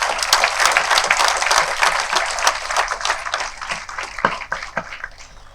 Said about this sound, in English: I think we can all give a warm round of applause for this.